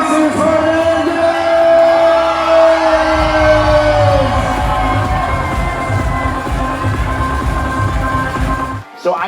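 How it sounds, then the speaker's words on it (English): A wedding crowd screams, whoops and cheers loudly for newlyweds, a sustained mass of yelling and shouting voices that cuts off abruptly at the end. "I need you all to scream and shout for the brand new Mr. and Mrs. Farmingdale."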